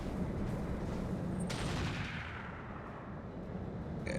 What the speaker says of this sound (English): those explosions are way dramatic.